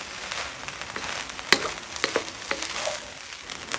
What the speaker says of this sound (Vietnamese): Rồi mình xào sơ lên cho nó thấm hết gia vị